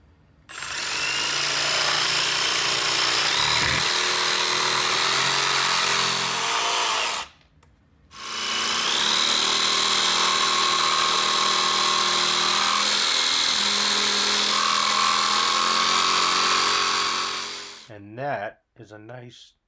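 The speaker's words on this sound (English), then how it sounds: "Simple cut with the jigsaw." Jigsaw cutting wood trim for a large Craftsman-style kitchen surround: a loud, close, continuous buzzing cut of about seven seconds, a short pause, then a second long cut of about ten seconds, ending in a few brief knocks.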